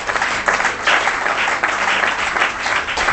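Congregation applauding for the Lord during a French-language church service, a steady dense wash of clapping and cheering that carries on through the whole stretch at full strength.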